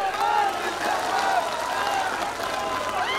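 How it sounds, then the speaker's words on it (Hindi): Crowd applause at a political public rally in Sandila, Hardoi, Uttar Pradesh, a dense steady wash of clapping that fills the whole stretch at a constant level, with crowd noise mixed in. "ताली में दम नहीं है यार जोरदार ताली बजाइए।"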